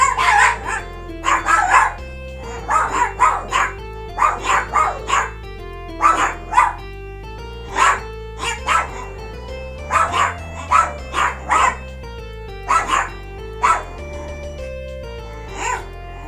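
Two dogs bark in repeated clusters across the whole stretch, with sharp yips recurring in uneven bursts over a steady tonal background, fairly loud and with no talking.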